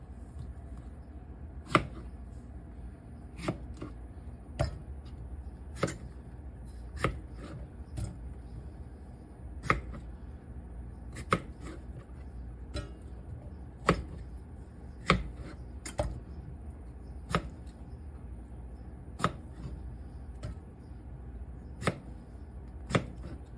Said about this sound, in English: give them a nice, maybe 4-way chop, because these are pretty big strawberries